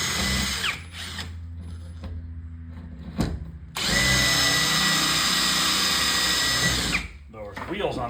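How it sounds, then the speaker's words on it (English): A power drill whines in long loud bursts, grinding into old wooden blocks with brief pauses and mechanical clicks between runs. "These old blocks are always hard to drill."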